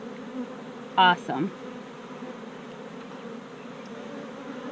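Honeybees at an open hive with a solid brood pattern hum as a steady, low buzz throughout, joined by a brief louder close pass near the start, while a voice speaks a single word.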